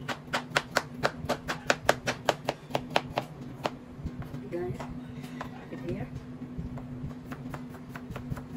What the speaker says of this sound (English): I'm gonna slice it now, guys.